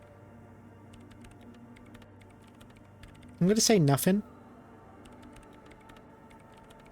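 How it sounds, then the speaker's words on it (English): Soft, steady clicks of keys being typed on a computer terminal keyboard in the video game Disco Elysium run faintly throughout, briefly covered by a short spoken line in the middle. "She's behind the keyboard now, typing in some numbers that only she understands."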